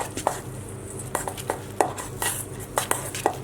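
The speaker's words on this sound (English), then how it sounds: "we're just going to simply mix this together and make our paste with it" Parmesan and butter being mixed into a paste in a bowl, with a series of sharp utensil clicks and scrapes in an irregular rhythm against a low background hum, close by and without talk.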